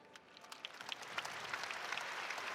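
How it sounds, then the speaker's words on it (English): Crowd in a women's college basketball arena breaking into applause, scattered claps quickly building into a steady, distant wash of clapping. "Nice round of applause."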